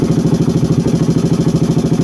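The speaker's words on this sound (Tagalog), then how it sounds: "Ang problema nito, itong ingay na tunog. No? Masyadong malagatik yung kanyang makina." A KTM Duke 200 motorcycle engine runs at a steady idle with a loud, rapid rhythmic clatter and rattling from the engine, close up with no talking.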